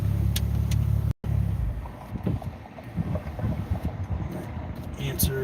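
A Ford Mustang's idling engine rumbles low and close, then cuts out abruptly, leaving wind buffeting the microphone and faint outdoor noise.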